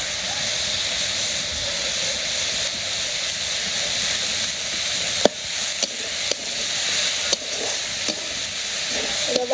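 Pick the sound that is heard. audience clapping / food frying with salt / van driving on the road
food frying with salt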